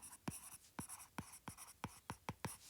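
A pencil scratches on paper in a quiet room, writing out a math problem, about nine short quick strokes in an irregular rhythm, faint and close, with no voice.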